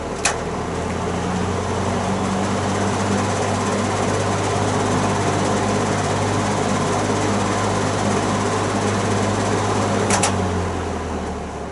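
A vintage GE box fan runs steadily on its high speed setting, a close, constant whooshing hum with a low motor drone that holds even throughout, with no talk and only a faint click near the start and end.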